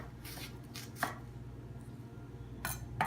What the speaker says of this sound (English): as you can see, the onion's falling off, and we have some nice chopped onions here